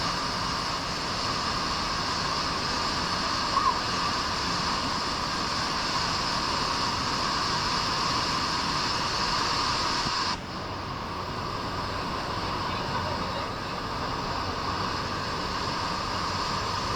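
Steady broadband rush of flowing water from the Vazhachal river and waterfall in Thrissur, a constant even roar with no voices, dropping slightly in level partway through.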